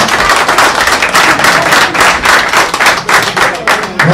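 A crowd claps loudly and continuously for a team at a sports awards ceremony, a dense, rhythmic burst of applause close by with no talk over it.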